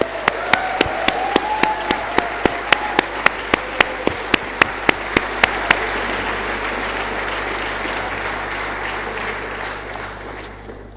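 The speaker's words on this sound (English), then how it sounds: "So let's give them a round of applause." Applause at the Christmas Gala Dinner at Dublin Castle, honouring Medtronic Ireland employees: crowd clapping with sharp, evenly spaced claps standing out early, then fading into a softer lingering patter.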